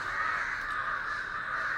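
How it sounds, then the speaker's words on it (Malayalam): A flock of crows caws loudly and continuously, many overlapping calls merging into a steady, harsh chorus close by with no pauses. "ആകെ കാക്കകളാണ്."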